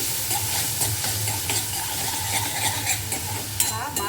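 A large onion fries in a hot pan for a goat brain curry, a steady close sizzle with scattered stirring clinks and scrapes throughout, no voices.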